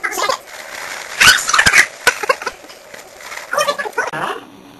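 Puppies yap, whine and whimper in short, irregular bursts close by. There are a few louder clusters of sharp cries and quieter gaps between them.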